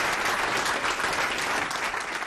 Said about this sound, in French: C'est un tonnerre d'applaudissements qu'a reçu le couple présidentiel samedi lors de son entrée dans cette salle